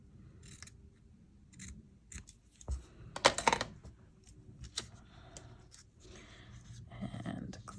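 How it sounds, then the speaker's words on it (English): Several crisp scissor snips cut through paper, a quick cluster in the middle with a few lighter cuts around it, close up amid soft handling noise. "let's grab scissors, and we're just going to snip this bit off over here"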